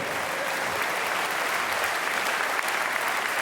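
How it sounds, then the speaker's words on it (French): Steady applause from an audience at a watch prize ceremony fills the room, a dense, even wash of many hands clapping for a few seconds with no voices on top. "Allez, on applaudit le jeune."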